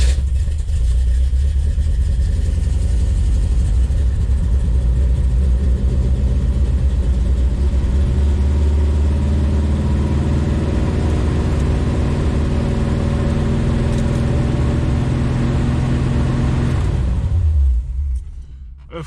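An old car engine with a rebuilt Rochester Quadrajet carburetor idles high with a loud, steady, rumbling drone close by, then shuts off abruptly near the end.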